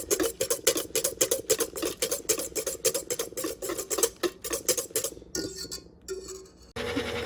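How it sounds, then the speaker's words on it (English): Cream whisked by hand in a bowl, a fast steady run of metallic clinks and taps from the whisk against the bowl, breaking off briefly near the end before scraping resumes. "All right, I'm hand whisking it."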